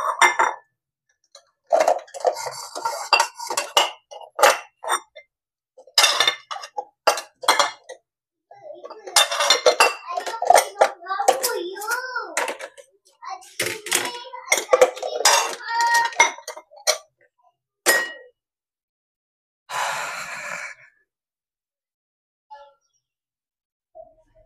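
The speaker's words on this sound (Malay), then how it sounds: "alihkan semua pinggan dan mangkuk yang dah kering" Dry plates and bowls clatter and clink as they are cleared from a full dish rack in a home kitchen, in irregular bursts of sharp knocks, fairly close and loud, with pauses between.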